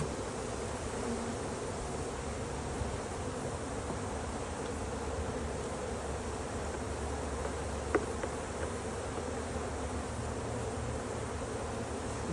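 Swarming honeybees around hive frames holding nectar make a steady, dense drone, close and constant throughout, with a faint click partway through.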